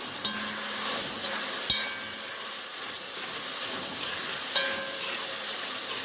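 Salted cabbage stir-fried in a pan, with a steady loud sizzle broken by several sharp spatula clacks against the metal.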